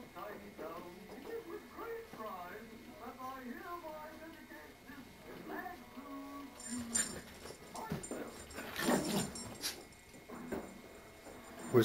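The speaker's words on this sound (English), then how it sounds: "dogs are having fun playing tug of war." Dogs tugging at a toy during a home Christmas gathering, with small yips, growls and whimpers mixed under people talking, moderately faint, and a sharper burst of scuffling and noise near the end.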